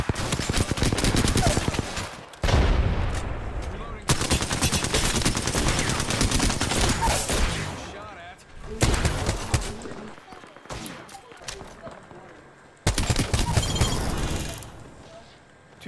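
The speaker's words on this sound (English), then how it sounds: "I'm getting shot at." Bursts of rapid gunfire rattle through a combat encounter in The Last of Us, loud and repeated in several clusters with brief gaps between, while a player talks over parts of it.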